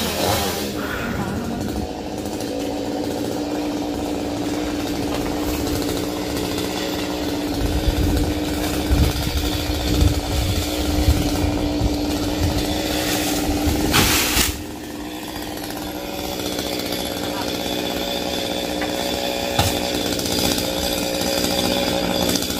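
Chainsaw roars steadily while cutting down a royal palm tree outdoors, loud and close throughout, briefly dipping as the engine eases off before revving back up to full cut.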